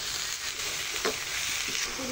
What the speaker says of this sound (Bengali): ভালো করে মিশিয়ে নেব। ভালোভাবে মিশিয়ে নিতেছি।